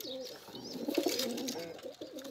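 Pigeons cooing nearby, soft throaty low calls repeating over a couple of seconds, faint and close, with a little chirping mixed in.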